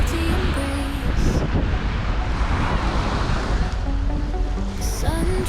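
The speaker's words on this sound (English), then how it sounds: "waves crash wild with a salty embrace." Ocean waves crash on a sandy shore near Marbella, Spain, a continuous loud surf roar with gusting wind buffeting the microphone and no voices.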